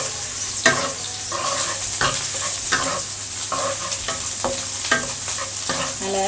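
Garlic, curry leaves and ginger frying in oil for a prawn masala gravy: a constant close sizzle broken by repeated scraping stirs of a ladle against the pan, no voices.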